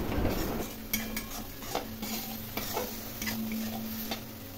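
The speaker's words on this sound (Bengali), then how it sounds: "মশলা আমি খুব ভালো করে কষিয়ে নিচ্ছি যাতে মশলার মধ্যে মশলার কাঁচা গন্ধ না থাকে" Spice paste for a jackfruit and prawn curry being stirred and sautéed in a pan, a steady run of soft scraping and light metallic ticks of the spoon against the pan over a low, constant background sizzle.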